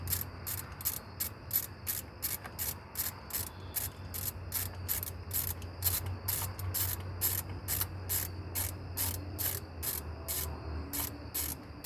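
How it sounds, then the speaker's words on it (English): A hand ratchet backs out a 10 mm bolt during water pump work on a 2007 GMC Sierra 1500 2WD, producing fast, sharp, evenly spaced clicking strokes that run throughout, close and loud with no talk. "Taking out the other 10 millimeter bolt that I found."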